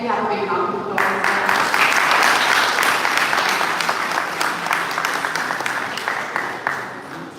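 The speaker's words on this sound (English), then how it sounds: "Can we have a big round of applause?" A lecture audience gives a big round of applause as a memento is presented to a guest speaker. Dense clapping swells in after a moment of talk and carries on steadily, with a few louder claps near the end.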